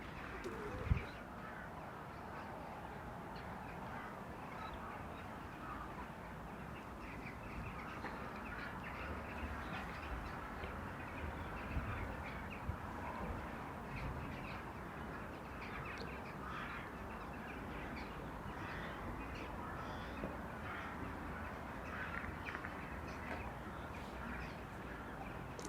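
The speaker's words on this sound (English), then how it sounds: "Wow, the starlings are back." Starlings and other birds call outdoors on a nature walk in Vienna's Döbling district, a faint, continuous chatter of many birds in the distance with no voices nearby.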